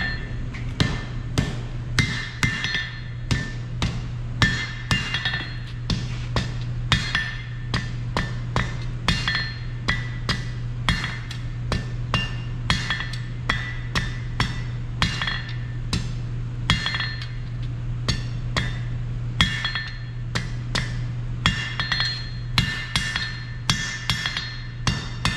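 A blacksmith in a blacksmithing studio strikes hot steel with a smaller hammer, dozens of sharp ringing blows in a steady rhythm over a constant forge hum, with no talking.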